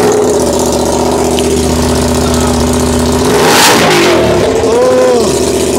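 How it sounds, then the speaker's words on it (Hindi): An Aprilia RS 457 motorcycle engine fitted with only the header pipe and no exhaust revs hard and raw, a loud sustained blare that climbs in a burst midway before settling back, with faint talk in the background. "पहले मैं इसकी ऐसे ही साउंड सुना तो किस तरीके से आ रही है आपकी विदाउट एग्जॉस्ट सिर्फ ओनली फॉर हेडर की"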